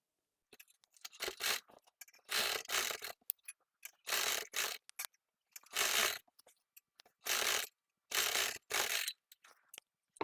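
A sewing machine stitches a straight salwar in short bursts of rapid mechanical chattering, about seven runs separated by brief pauses, close and clear with no talking over it.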